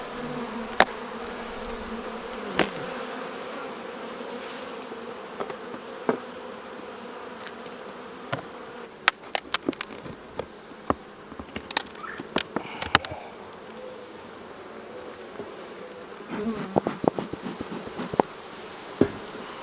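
A honey bee colony hums with a steady, dense buzz during an April hive inspection in Minnesota, with scattered sharp knocks and clicks from the hive parts being handled, and no voices.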